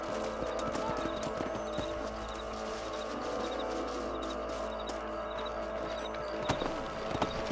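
Horse hooves clip-clopping in the video game Red Dead Redemption on a ranch, a steady rhythmic run of hoof strikes at moderate distance over a low background hum, with a couple of louder knocks near the end.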